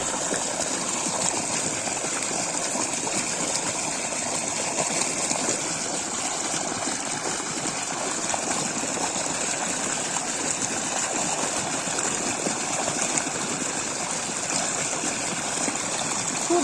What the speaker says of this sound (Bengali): পানি যাচ্ছে কিভাবে দেখাই